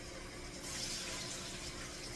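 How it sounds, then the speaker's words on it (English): Steady water running from a tap while rice is washed, a constant soft rushing splash with no talking. "You will hear the water is running."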